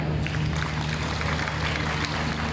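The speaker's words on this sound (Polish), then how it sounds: "Także, szanowni Państwo, duże brawa." At a regional sports gala in Cieszyn, an audience claps continuously for a young majorette dance champion, a close, dense wash of applause with a low steady hum beneath it.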